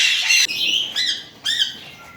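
A pied red-factor sun conure parrot gives three loud, shrill squawks in quick succession, close up, with near silence between them.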